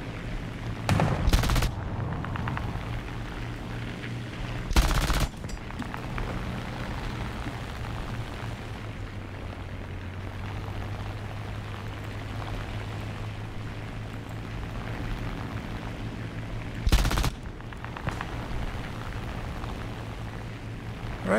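Machine gun fire from a T 26-4 tank in War Thunder: short loud bursts punctuate the clip, three or four separate volleys over a continuous engine rumble.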